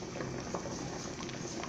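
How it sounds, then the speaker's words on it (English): A pot of yam boiling steadily, with a continuous bubbling and watery roil that stays close and even throughout, no voices over it. "Wow, the yam is boiling very well."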